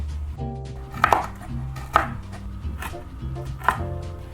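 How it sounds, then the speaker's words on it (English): A knife coarsely chopping toasted pepitas on a board, three or four crisp distinct chops spaced about a second apart over soft background music, close and clear with no talking. "grab your toasted pepitas and coarsely chop them"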